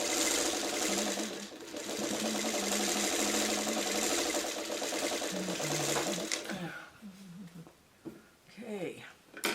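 A sewing machine stitches quilt subunits together in rapid, continuous mechanical bursts for several seconds, then stops; a person talks over and after the stitching.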